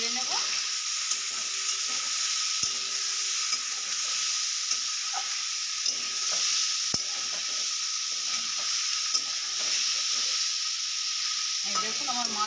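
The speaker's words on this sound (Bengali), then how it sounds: "এবার এটা আমি হালকা করে একটু নেড়ে নেব।" Mourola fish sizzling in spiced oil in a frying pan, stirred with soft scraping and clinking strokes over a steady, close hiss, with occasional sharp utensil knocks against the pan.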